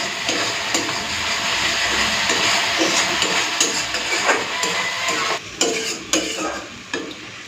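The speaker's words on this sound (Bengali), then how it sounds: "এরপরে একটুখানি মশলাটাকে কষে নেবো যতক্ষণ না তেলটা ছাড়ছে।" Masala sizzles steadily in hot oil in a pan for a Bengali fish-oil dish, with a constant frying hiss broken by sharp spatula scrapes and stirs toward the end, close and fairly loud, no talk.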